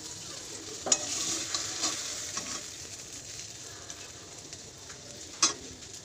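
Potatoes and flat beans with spices frying in a pan, a steady soft sizzle with a couple of sharp stirring clinks, close and fairly quiet, no voices.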